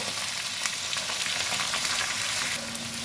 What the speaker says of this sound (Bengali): কুদলিগুলো আমার ভাজা ভাজা হয়ে গেছে।